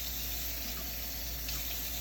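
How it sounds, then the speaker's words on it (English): A faucet runs tap water steadily at a cattery before a kitten's bath, a constant close rushing hiss with no break and no talk. "And I turn the water on."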